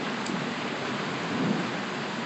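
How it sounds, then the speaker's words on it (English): Heavy rain from a thunderstorm hisses steadily, with a low rumble of thunder swelling faintly in the background during a power outage. "why we're getting lightning and rain and storm like this right now?"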